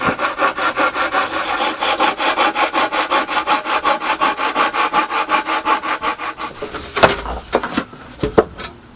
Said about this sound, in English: I'm just going to do that with a little pull saw and get that cut to fit.